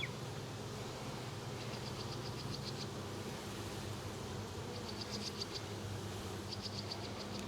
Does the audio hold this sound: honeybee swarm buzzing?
yes